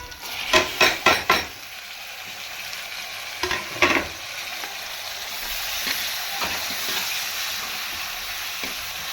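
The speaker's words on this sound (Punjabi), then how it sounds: "ਮੈਂ ਤੁੜਕੇ ਦੇ ਵਿੱਚ ਪਿਆਜ਼ ਪਾਏ ਆ ਅਦਰਕ ਹਰੀਆਂ ਮਿਰਚਾਂ ਤੇ ਲਸਣ ਵਗੈਰਾ ਸਾਰਾ ਕੁਝ ਮੈਂ ਭੁੰਨ ਲਿਆ" Onion, ginger, green chili and garlic sizzle in a hot oil tadka, with a few sharp metal spoon scrapes against the pan early on, followed by a steady close frying hiss as tomatoes go in.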